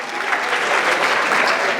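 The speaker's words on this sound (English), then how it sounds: "A big round of applause for Eva." Audience applause at a 2017 gala dinner awards evening, steady dense clapping filling the room at an even loudness from start to finish, with no voices over it.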